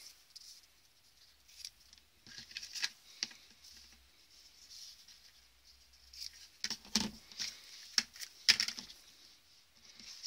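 Scissors cutting ribbon for Christmas treat pouches: faint snips and light rustling close up, sparse at first, then a quick cluster of crisp cuts toward the end.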